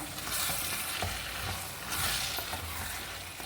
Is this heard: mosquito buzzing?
no